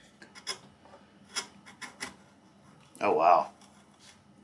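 A Blue Spruce Optima chisel plane shaves wood in a few short rasping strokes, then one louder, longer scrape near the end, close and clear with brief speech between.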